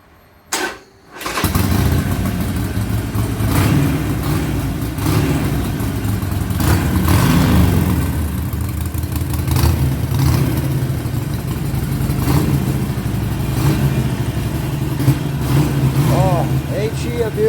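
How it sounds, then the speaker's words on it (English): A 2009 Harley-Davidson Sportster 48 1200 XL engine cranks and fires up, then settles into a loud, steady, rumbling idle as it warms up, with people talking faintly underneath. "go ahead and start it, warm up the engine"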